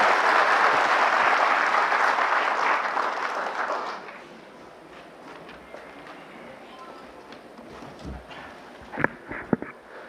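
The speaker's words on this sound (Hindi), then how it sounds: "एक बार जोरदार तालियों से उनका स्वागत करें।" Loud audience applause welcoming a speaker at a CSC event in India, dense for about four seconds before it fades, followed by quieter room noise, scattered thumps and a few sharp knocks.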